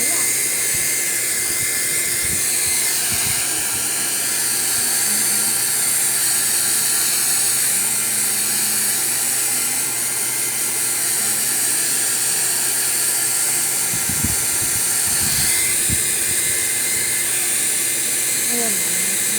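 A blower dries a freshly bathed dog's wet fur, running as a loud, steady whir throughout, with occasional handling clunks near the start and after the middle and voices talking over it.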